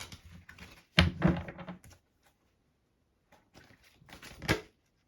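Tarot cards being shuffled by hand in a quiet room, two short bursts of riffling and tapping separated by a silent gap, close and fairly soft.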